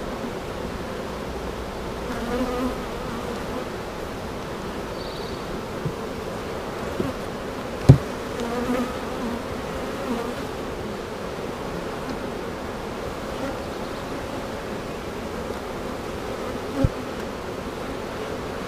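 A well populated honeybee colony buzzes in a hive, a dense steady drone of many bees close by, with a few faint knocks.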